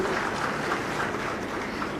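Applause for Chief Minister Bhupesh Baghel at an honouring ceremony for the rescue team that saved Rahul from a borewell, a dense, steady clatter of many hands clapping throughout, fairly loud.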